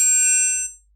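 Video game sword swipe tail end built from a UFO impact sound: a bright, metallic ringing shimmer that decays and fades out within a second, heard alone.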